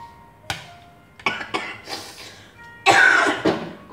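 A woman coughs close up several times in short, irregular bursts, with the loudest cough near the end.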